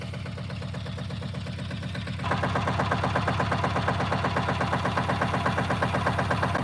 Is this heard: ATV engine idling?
yes